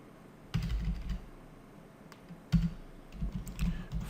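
Quiet, close computer keyboard typing in short bursts of rapid clicks separated by pauses, with no other sound.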